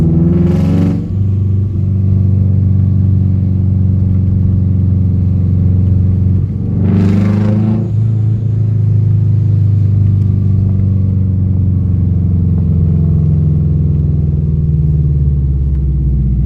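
A four-wheel-drive Subaru car idles with a deep, loud engine rumble, broken by two sharp revs a few seconds apart that climb and drop quickly, then settles back into a steady low drone.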